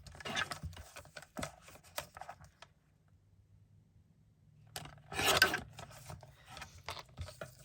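Card stock for a flap door card is trimmed in quick raspy rubbing strokes, a busy run of scraping early on, a silent pause, then a louder burst of cutting and sliding paper before smaller rustles trail off.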